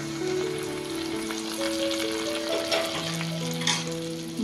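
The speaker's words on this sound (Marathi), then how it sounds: "मी ह्याच्यात गरम तेल ओतते" Hot oil hits freshly pounded garlic chutney with a loud, close, continuous sizzle and crackle that holds steady throughout, with no talking.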